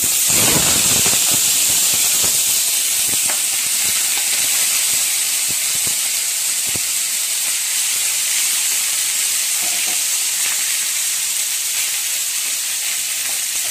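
Country chicken pieces dropped into hot oil, a loud hissing sizzle bursting at first with sharp crackles, then settling into a steady, close roar of frying.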